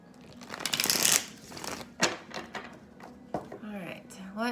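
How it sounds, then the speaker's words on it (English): Tarot cards riffle and shuffle in quick flurries, with soft papery slaps and a voice speaking briefly in between. "Okay, 2 more shuffles."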